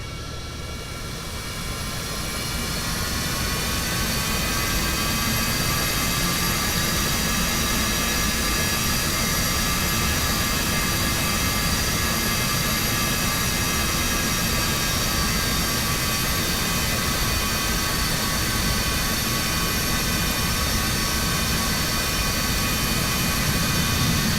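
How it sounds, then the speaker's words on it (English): An Embraer Phenom 300 business jet in a flight simulator game taxis toward runway 15 at Sao Jose dos Campos Airport, its engines giving a loud, steady whine and roar that swells in the first seconds and then holds constant. "we're currently taxiing to runway 15 for departure from Sao Jose dos Campos Airport"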